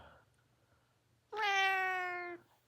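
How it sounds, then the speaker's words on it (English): A cat lets out one long, loud, tonal meow close by, lasting about a second after a quiet stretch with a faint low hum. "I love these cats, man. They're such good cats."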